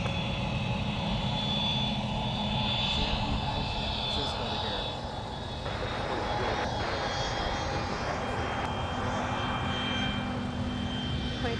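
A Delta airliner takes off at Minneapolis–St. Paul airport with a steady, broad engine roar that holds for the whole stretch. Voices talk over it, like radio chatter.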